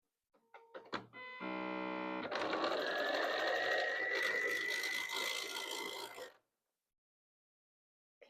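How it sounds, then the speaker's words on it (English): Sewing machine stitching down the side of a fabric banner: a few clicks, a brief rapid pulsing start, then a steady close motor whir for several seconds before stopping into silence. "we're going to sew down one side"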